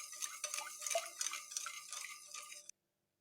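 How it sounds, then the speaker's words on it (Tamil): A spoon scrapes and clinks around a cooking pot as sugar syrup is stirred for a sweet snack, a quick irregular series of close metallic taps and swishes that stops abruptly. "நல்லா கரைச்சி விட்டுடலாம்."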